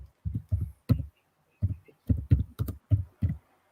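Thumping footsteps and keyboard typing come through an open microphone on a streamed discussion call: about nine heavy, evenly paced thuds spread across a few seconds, with lighter clicks between them, close and fairly loud.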